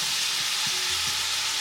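Onions hit a hot pan with meat and fry in a loud, dense, continuous sizzle with faint low stirring knocks beneath.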